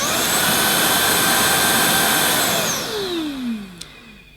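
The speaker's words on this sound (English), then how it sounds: "Switch the cleaner on using the button here." A Vax ONEPWR Blade 4 Pet cordless vacuum cleaner runs with a loud, steady high-pitched motor whine close by, then winds down with a falling tone and ends in a brief click.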